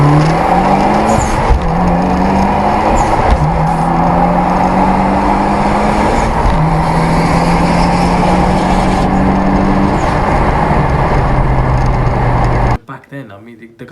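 Evo engine revving hard through rising gear pulls, with a steady climbing drone and repeated shifts, loud and close for about thirteen seconds before cutting off abruptly.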